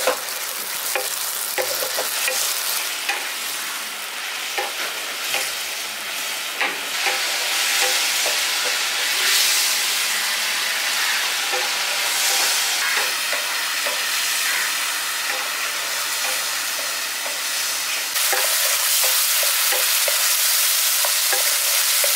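Onion fries in a pan with spices, among them turmeric and Kashmiri chili powder, making a steady close sizzle broken by frequent scraping stirs, with a brief louder hiss near the end.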